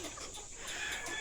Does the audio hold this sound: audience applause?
no